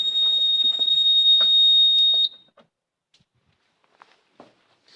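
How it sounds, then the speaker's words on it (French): A fire alarm panel at a high school sounds a high, steady electronic tone for about two seconds, then cuts off, leaving quiet with a few faint clicks and taps. "vous êtes en présence d'une alarme."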